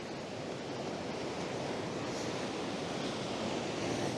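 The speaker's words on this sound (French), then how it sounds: "on va voir si les vagues elles arrivent à me péter la tête" Ocean waves break on a shore during a fishing outing, a continuous loud wash of surf with steady hiss and rumble and some wind, with no talk over it.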